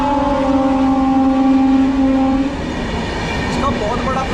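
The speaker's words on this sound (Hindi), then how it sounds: "अब आप सुन सकते हैं ट्रेन आ रही है जा रही है" A train moves through a railway station with a long steady horn-like tone at first, then a rumbling, clattering wash of rail noise, loud and close, with no voices.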